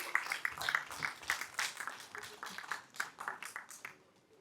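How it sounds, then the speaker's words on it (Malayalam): Audience at a film audio launch event clapping, a crowd of many hands applauding fairly far off, fading gradually toward the end. "കുറച്ചും കൂടെ സ്ട്രോങ് ആയിട്ടൊന്ന് കൈയടിക്കൂ പ്ലീസ്"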